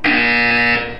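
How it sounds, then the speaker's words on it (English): Portal 2's test-chamber buzzer gives one loud, steady electronic drone of about a second, a sharp onset tailing off at the end, heard with no talking. "You will hear a buzzer. When you hear the buzzer, look up at the ceiling."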